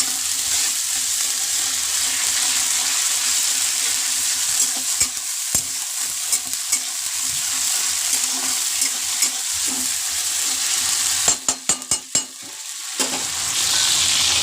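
Onions fry with ginger garlic paste in a pan, giving a continuous hissing sizzle with occasional stirring clinks, then a quick burst of sharp spoon knocks against the pan near the end, close and clear without speech.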